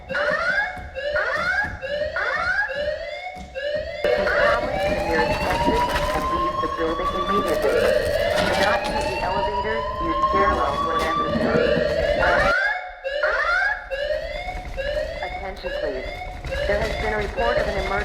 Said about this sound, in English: There has been a report of an emergency.